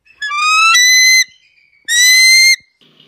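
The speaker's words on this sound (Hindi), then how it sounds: "लेकिन रियलिटी में जब ईगल बोलता है तो इस प्रकार के सुर बाहर निकलते हैं।" A real eagle's call, two bursts of high, thin, whistled piping notes separated by a short pause, loud and close, with a faint trailing note after, no talking.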